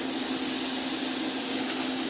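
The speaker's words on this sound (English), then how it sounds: "the air blast is running now" Air blast coolant spraying on a machine tool gives a steady, continuous hiss of compressed air that runs unchanged for the whole stretch under a constant low hum, with no talking.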